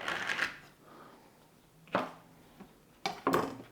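A knife cuts mixed mushrooms into bite-sized pieces on a board, giving a few short, close chopping and scraping bursts separated by pauses.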